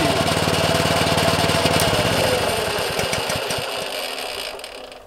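Small engine of a Protea 510 lawn groomer for vertical grass cutting, running loud and close with a rapid chugging pulse that rises as it is throttled, then eases and fades toward the end.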